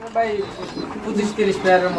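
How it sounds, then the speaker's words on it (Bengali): Fancy pigeons on a farm cooing repeatedly while eating, several soft rolling coos close by in quick succession. "এই যে খাবার দিচ্ছেন সবগুলো কবুতর অ্যাকচুয়ালি খাবার খাচ্ছে"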